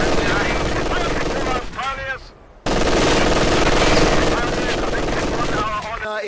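Machine gun fire in the World War II strategy game Company of Heroes 2, loud, dense continuous bursts with battlefield din, briefly dropping out for a moment before resuming, with in-game voices calling out over the shooting.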